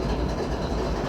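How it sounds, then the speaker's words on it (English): Large freight train loaded with some 200 grain cars, heard from aboard as a steady, loud low rumble and rolling roar with no distinct clacks. "We're on a pretty big train, so it's probably gonna move pretty slow."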